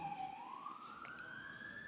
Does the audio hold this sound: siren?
yes